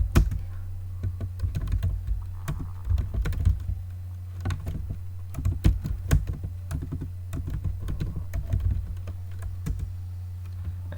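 Rapid clicking keystrokes on a computer keyboard, irregular bursts of typing with brief pauses, close and clear over a constant low electrical hum, with no voice.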